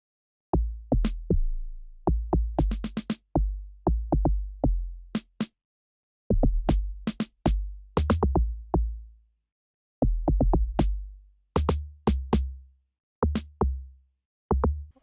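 Punchy, deep amapiano log drum notes bounce in a syncopated groove, joined by sharp bright snare cracks that cut through the low booms.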